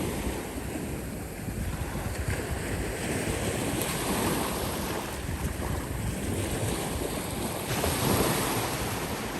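Continuous ocean waves roar in a dense, even wash, mixed with wind rumble against the microphone, holding steady with a mild swell near the end and nobody speaking.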